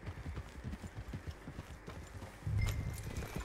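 Horse hooves clip-clop in a steady walking rhythm in Red Dead Redemption 2, soft and fairly near, with a low rumble swelling toward the end and no speech.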